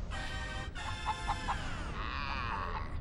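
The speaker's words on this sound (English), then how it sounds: "Random chicken." A cartoonish chicken in the racing video game Crash Tag Team Racing lets out a string of short, bright clucks and squawks over a busy game-audio background, moderately loud and close.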